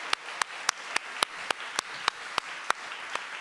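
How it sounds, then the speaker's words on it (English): An audience responds with claps that come as sharp, evenly spaced single strikes in a quick steady rhythm, fairly close and moderately loud. "please do give a massive applause to Karishma Patel."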